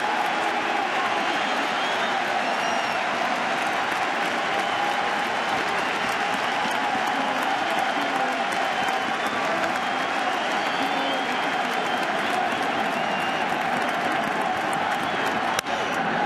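A packed stadium crowd at a 2013 World Series baseball game between the St. Louis Cardinals and Boston Red Sox, applauding and cheering in a sustained roar of clapping that carries on throughout, with a commentator talking over it.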